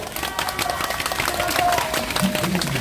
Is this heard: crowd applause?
yes